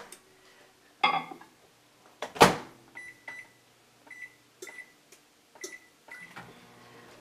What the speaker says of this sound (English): I'm going to put this in the microwave